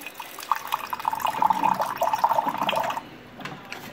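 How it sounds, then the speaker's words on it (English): A cold water dispenser pours into a cup, a short gurgling stream that runs for about three seconds up close and then stops. "Put it in there, hit my cold water dispenser."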